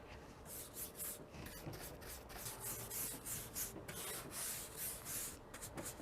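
Brush spreading chalk paint over furniture, faint, close-up rhythmic swishing strokes repeating steadily back and forth without talk.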